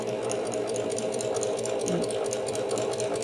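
A sewing machine runs steadily, stitching a quilt with a decorative stitch, its continuous mechanical whir and rapid needle ticking holding an even rhythm throughout at close range.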